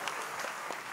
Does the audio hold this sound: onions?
no